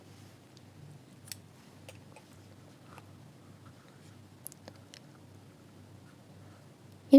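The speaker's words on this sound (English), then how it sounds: "Now you can cut this tail." Scissors snip through a crochet yarn tail, a few faint, quick cuts close by in a quiet room with no talking.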